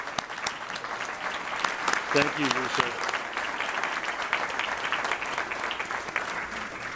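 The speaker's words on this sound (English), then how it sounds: "Let's give a round of applause to Lisa here." Audience applause at an investment outlook seminar, sustained clapping from a crowd throughout, with a brief spoken thanks heard over it.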